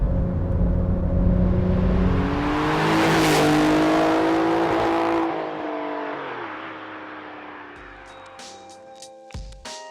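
An Alfa Romeo Giulia Quadrifoglio engine on a test drive roars as it accelerates hard, its pitch climbing through the revs before it eases off and settles to a quieter hum, with a few sharp knocks near the end.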